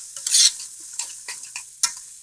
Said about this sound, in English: caramelization going there on my carrots